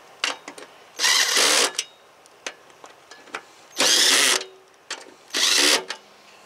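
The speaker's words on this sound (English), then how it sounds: "I put my drill on reverse. I hit them until I feel it click backwards one time so I'm not cross-threading. Then I go forward." A cordless drill runs in three loud whirring bursts, each about half a second long, driving screws into a Troy-Bilt Pony mower deck spindle. Short clicks and taps fall between the bursts.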